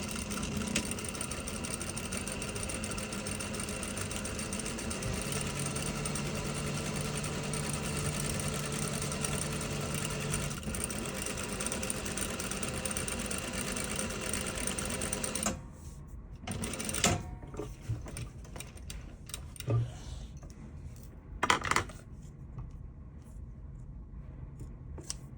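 Sewing machine running steadily while stitching a slot seam, a continuous close hum for about fifteen seconds, then stopping and giving way to quieter handling clicks and rustles.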